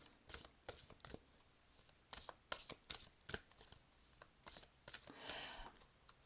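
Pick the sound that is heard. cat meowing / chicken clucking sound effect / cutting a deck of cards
cutting a deck of cards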